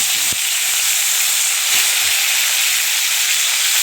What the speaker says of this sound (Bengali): এখন আমরা এই তেলের ভিতরে দিয়ে দেবো টমেটো সাদা জিরে আর আদা বাটা